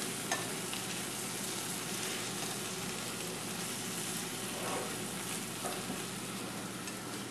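Corn kernels frying in melted butter in a pan give a steady, close sizzle with occasional soft scrapes of stirring throughout, no voices.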